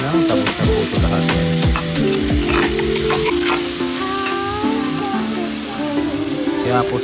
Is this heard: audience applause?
no